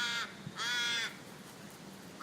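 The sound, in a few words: crow cawing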